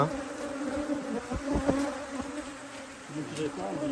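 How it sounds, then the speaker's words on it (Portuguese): Dense, continuous buzzing of honey bees swarming around an opened hive, a steady hum with a few louder passes of bees flying near, no talking. "Cuidado para não matar a abelha"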